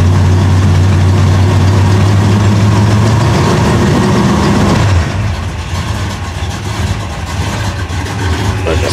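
A 1979 Chrysler 300 engine runs after a cold start, giving a loud, steady low rumble for about five seconds before settling into a quieter, rougher idle.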